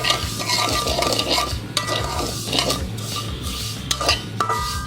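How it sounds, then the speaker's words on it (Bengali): Vermicelli frying in ghee with whole spices such as bay leaf, cinnamon and cardamom, stirred steadily in a pan, giving continuous close sizzling with repeated scraping and clinks of the spoon against the metal. "এবার আমি সেমাইটা দিয়ে ভালো করে ভাজবো"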